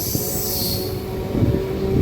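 A MEMU commuter train pulls out of Gudivada Junction on the Machilipatnam–Vijayawada line, its loud, close rolling rumble carrying a thin, sustained wheel squeal and a brief metallic screech near the end.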